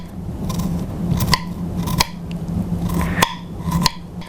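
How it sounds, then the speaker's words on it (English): Knife chopping a garlic clove on a cutting board, a series of sharp, crisp cuts at an irregular pace, close and clear with no talking. "I'm going to chop up my garlic"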